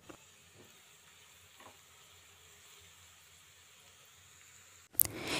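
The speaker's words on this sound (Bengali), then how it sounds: "পেঁয়াজ কুচি ভেজে নেব 2 মিনিটের মতো" Chopped onions fry in a pan with spices, giving a faint, steady low sizzle throughout, ending in a louder burst of hiss or stirring near the close.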